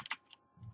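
A few quiet keystrokes on a computer keyboard, a couple of sharp light clicks followed by a softer, duller tap, close up with no talking.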